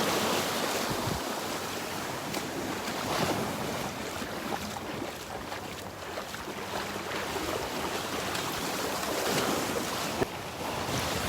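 Waves wash steadily onto the beach at Delnor-Wiggins, a broad continuous surf hiss mixed with strong wind buffeting the microphone, with no voices.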